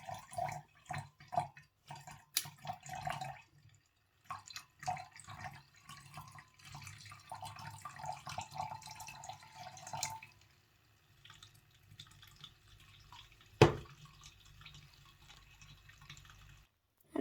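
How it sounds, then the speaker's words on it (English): Sodium hydroxide solution poured into ethanol in a beaker: faint trickling and dripping liquid sounds in short, uneven bursts, then quieter splashes and one sharp clink near the end, close and without speech. "And then I add the sodium hydroxide solution to the ethanol."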